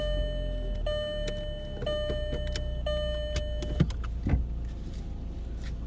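Inside a Volkswagen Jetta on a gravel driveway, a steady low engine rumble runs under repeated electronic chime tones, followed by a couple of thumps and knocks.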